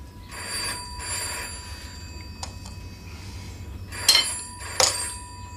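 Old telephone bell rings in repeated bursts indoors, a steady tonal ring with metallic overtones, fairly distinct over a low background hum, with a couple of sharper clicks near the end.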